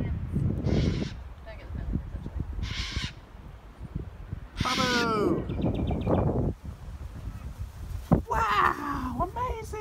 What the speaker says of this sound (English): it's just a bird